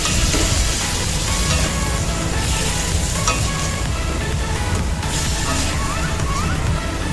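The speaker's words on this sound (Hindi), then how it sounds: "अब डालेंगे हम इसमें पनीर। तो इसे 2 मिनट के लिए भूनेंगे।" Paneer frying in a pan for shahi paneer gives a dense, loud, continuous sizzle with stirring noises mixed in, close up and steady the whole way through.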